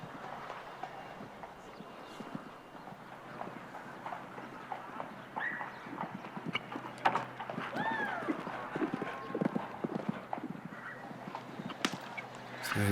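Hooves of a show jumping horse on a Grand Prix course at an international outdoor event, a steady clip-clop of strides and thuds with some louder beats, heard amid a background murmur of voices.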